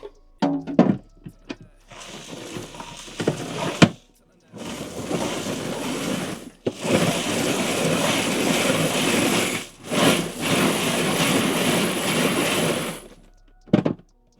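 Brass cartridge cases spin in rice with bits of dryer sheet inside a separator contraption, giving three loud whirring, rattling bursts separated by short pauses, with a few knocks at the start and end.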